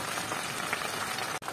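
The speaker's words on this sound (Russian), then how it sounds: "Так, эта картошечка жарится уже." Potatoes fry in a pan with a steady, dense sizzle that hisses evenly throughout, with only a brief dip near the end.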